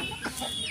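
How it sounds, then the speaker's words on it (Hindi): Chickens cluck briefly and close by as a rooster and hens feed, with a short burst of fowl calls over a busy background. "मुर्गा मेरे हाथ में खाना खा सकते हैं"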